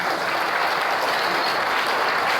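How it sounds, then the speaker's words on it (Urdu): Sustained applause from a community gathering honoring the organizing committee of a ward election event in a Cantonment Board colony, dense steady clapping filling the whole moment with no break. "کمیٹی کے لیے تالیاں ہونی چاہیے"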